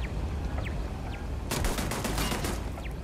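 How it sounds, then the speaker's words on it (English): A rapid burst of gunfire in Starfield, aimed at a rock, breaks out halfway through over a low steady game backdrop. The repeated shots stay loud and close with no talking. "Yep, you keep shooting the rock."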